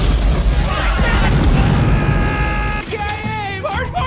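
Roof explosion from the film Die Hard: a loud sustained blast and rumbling debris for nearly three seconds, then tonal, ringing mechanical creaks and squeals as it dies down.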